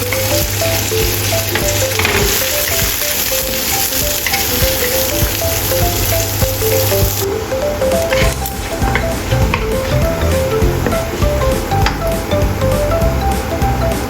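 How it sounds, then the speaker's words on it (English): Dried shrimp stir-fried in a wok, a loud, dense, continuous sizzle with constant tossing and scraping, close up and filling the whole stretch, the hiss thinning slightly partway through. "Stir-fry dried shrimp until fragrant."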